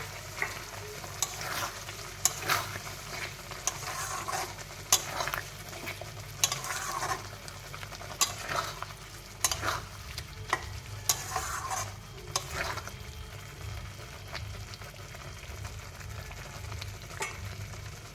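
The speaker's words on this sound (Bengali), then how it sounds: "এখন মশলার সঙ্গে দিয়ে দেব। তাতে করে পনিরটা ভাজা হয়ে যাবে" Paneer cubes frying with spices in a pan, a soft steady sizzle broken by regular scraping strokes of a spatula stirring, fairly quiet and close.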